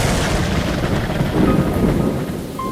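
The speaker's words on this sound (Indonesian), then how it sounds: "petir menyambar laut." Thunder strikes over the sea in a storm, a loud, continuous rolling rumble with heavy rain beneath it throughout.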